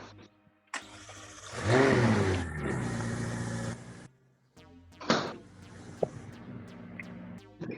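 A McLaren 600LT Spider engine cranks and fires, then revs up hard in a loud, rising surge before dropping back to a rumbling idle, with a couple of sharp blips near the end.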